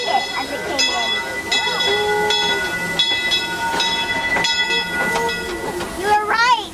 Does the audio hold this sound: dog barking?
no